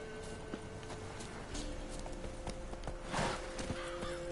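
Horse hooves clop in a quick steady rhythm through The Witcher 3 video game, a rapid galloping beat with faint background ambience and a brief louder swell near the end.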